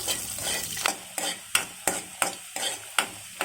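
Cashews fry in half a spoon of ghee while a spoon scrapes and stirs them in a steady rhythm of about eight strokes over a soft, continuous sizzle.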